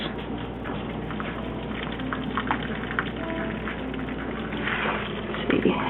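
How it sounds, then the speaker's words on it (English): Hot water poured into a baking dish around custard ramekins for crème brûlée, a steady soft trickling and splashing wash that swells near the end, fairly quiet in a kitchen. "now we are pouring in the hot water around the custard dishes, or ramekins"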